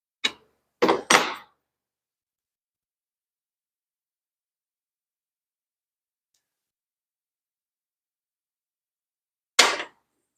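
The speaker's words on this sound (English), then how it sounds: "Now that nut just fell off." A nut drops off a Craftsman planer during repair, giving a few sharp, close clinks in quick succession, then long silence before one more short clatter.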